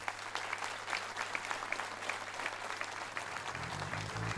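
Applause from a live audience for a band from Mayenne, at a fifteenth-anniversary concert; steady, dense clapping fills the stretch, with a low tone and a few plucked notes coming in near the end.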